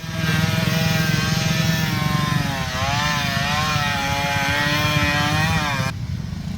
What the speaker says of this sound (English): Here we have like a CRM 50 or a CRM 80, little two-stroke 6-speed manual Honda.